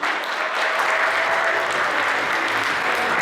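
Steady, dense applause from a forum audience at an awards ceremony, continuous and loud throughout with no talk over it.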